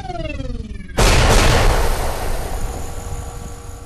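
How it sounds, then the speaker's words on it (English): Concussion torpedoes in a sci-fi radio drama scene: a descending whistling launch tone, then a sudden loud explosive blast with a roaring burst that decays into a long rumbling tail. "My, what a spectacular explosion."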